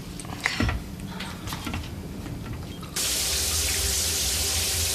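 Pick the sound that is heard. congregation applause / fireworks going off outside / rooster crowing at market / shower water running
shower water running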